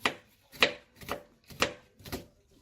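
A knife chops sharply on a cutting board while preparing kimchi fried rice, about five evenly spaced strokes, close up with quiet pauses between each.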